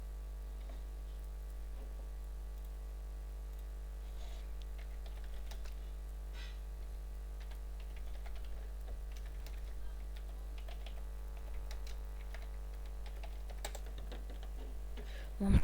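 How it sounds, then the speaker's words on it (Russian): Computer keyboard keys clatter softly in scattered bursts of light clicks over a steady mains hum, close and faint, with no talking. "Вам там не сильно моя клава стучит?"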